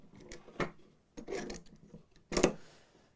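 A Festool clamp being tightened down onto a 2x4 on a workbench, with several short scraping, rubbing and ratcheting bursts separated by brief pauses, close and moderately quiet.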